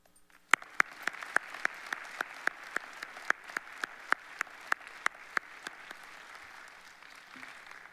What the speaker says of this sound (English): please hold your applause until all board members have been announced